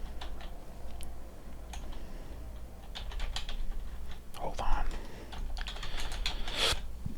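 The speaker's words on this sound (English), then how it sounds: "Oh my god, I can't even type. The frickin' tripod's right over the darn keyboard." Computer keyboard typing in irregular bursts of clicks and taps, with a tripod positioned over the keys; close and clear, with a brief spoken phrase partway through.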